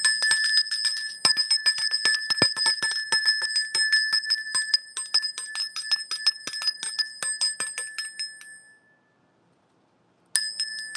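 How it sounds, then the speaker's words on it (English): A small hand bell rings rapidly and continuously with bright metallic tones for about nine seconds, pauses briefly, then starts ringing again. "get my little handy dandy bell."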